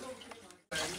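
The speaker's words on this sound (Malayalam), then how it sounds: "ഇനി കുറച്ച് വെള്ളം പയ്യ ഒഴിച്ചു കൊടുക്കണ്ട" Water is poured slowly over stones into a planted aquarium tank, a soft trickle that breaks off briefly and then returns as a louder, fuller splashing pour.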